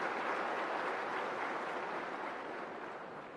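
An audience claps in steady, dense applause that stays even and fairly faint, tapering slightly toward the end with no voices over it.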